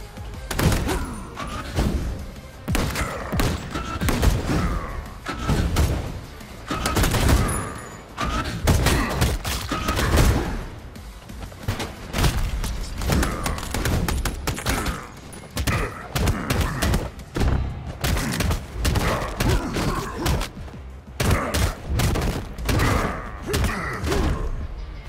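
Repeated gunshots and heavy thuds from the player's weapon in the arena shooter Kiborg Arena, coming in irregular bursts across the stretch amid other combat impacts.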